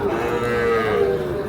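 Sahiwal bull calves at Ambari cattle market let out a sustained, close moo over a low bustle of market background noise.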